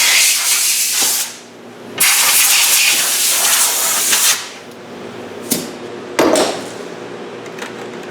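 Compressed air blasting debris off metal work on a bench in a fabrication shop, loud sustained hissing bursts with short pauses and sharp restarts, close to the microphone.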